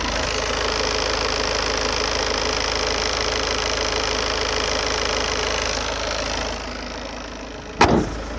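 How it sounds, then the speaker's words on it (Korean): A Peugeot 5008 seven-seat SUV engine idles steadily up close with the bonnet open, an even mechanical hum, ending with a sharp clunk near the close. "엔진음 들려드릴게요"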